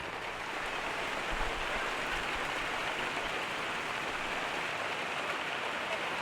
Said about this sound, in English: As you can see, a little bit of rain going on.